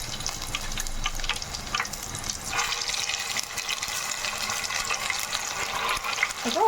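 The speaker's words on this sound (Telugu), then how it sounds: "చక్కగా వేగనివ్వాలన్నమాట. పచ్చి వాసన పోయేదాకా వేగనివ్వాలి." Ginger garlic paste frying in hot oil for a fish pickle, a steady broad sizzle that stays loud throughout with some bubbling crackle and no talk.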